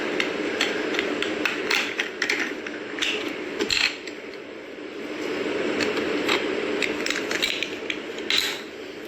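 Close handling noises come from opening the box of a customised 999 silver bar, with a steady stream of small clicks, rattles and scrapes going on for several seconds.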